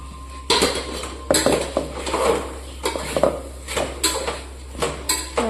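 Batter being mixed with curd in a steel vessel, giving repeated clanking and scraping strikes of spoon or hand against metal, irregular and close, over a low steady hum.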